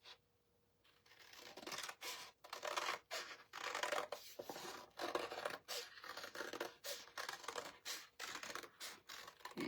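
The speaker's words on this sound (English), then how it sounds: "see if we can attempt to cut a circle" Scissors snip steadily around a circle, a long series of crisp, close cuts in an even rhythm after a quiet start, with no talk.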